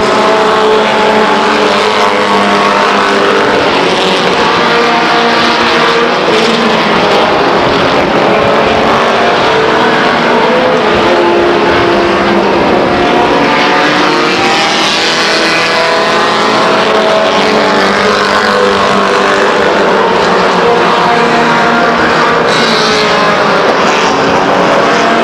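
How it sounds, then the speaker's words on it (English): Race trucks roar around the Stockton 99 Speedway oval, a loud continuous blend of engines rising and falling as the field passes, with dense crowd-level racing noise throughout and no talk. "your leader's in the 81 truck, Brent Barney."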